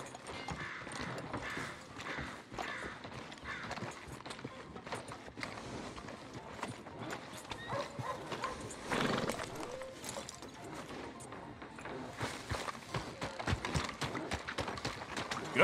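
Horse hooves clip-clopping in the Red Dead Redemption 2 video game, a steady stream of hoofbeats with a whinny around the middle, moderately loud with game ambience.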